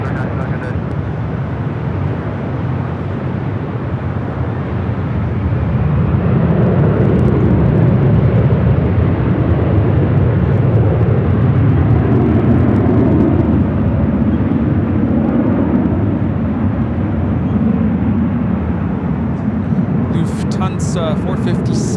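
An airliner taking off from runway 24 Left at Los Angeles International Airport, a loud, broad jet roar that swells over several seconds and holds steady, with faint radio chatter in the background.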